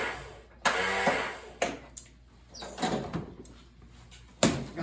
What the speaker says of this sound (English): Let's give it a crank and see if this at least turns over.